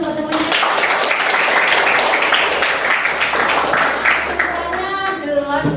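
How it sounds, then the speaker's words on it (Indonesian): Students in a classroom clap together in a dense, steady burst that lasts several seconds, with a voice speaking over it toward the end. "tepuk tangan buat teman-teman"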